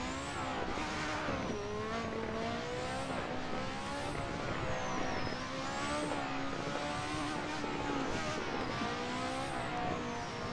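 A Lotus 98T Formula 1 car driven hard in the Assetto Corsa racing simulator, its engine screaming loud and unbroken through rising and falling revs and gear changes, with tire squeal running underneath.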